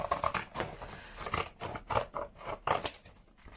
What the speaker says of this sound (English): this might be better just to do with the scissors. And I'm going to cut this in actual panels.